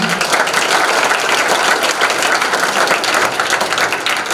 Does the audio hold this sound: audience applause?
yes